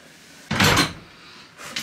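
A custom cabinet drawer in a short-bus conversion slides shut with a close wooden thump and rattle, followed by a softer knock.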